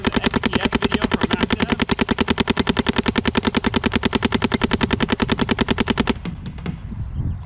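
A Planet Eclipse CS2 paintball marker fires a long, rapid, unbroken string of loud, crisp shots at a steady machine-gun rate for about six seconds, then cuts off, leaving faint outdoor background noise.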